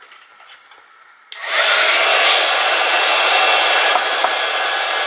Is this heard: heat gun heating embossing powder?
yes